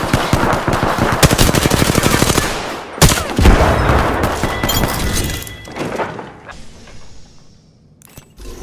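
Rapid automatic gunfire in a first-person shooter video game, loud and close, with dense bursts and sharp single impacts and thuds, tapering off into quieter shots and a final crack at the end.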